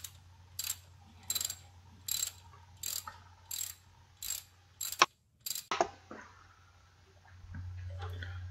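A ratchet works a bolt on the engine of a 2002 Honda Civic during a timing belt and water pump job, a series of about eight short, close clicking bursts with a sharp clank, then a low hum.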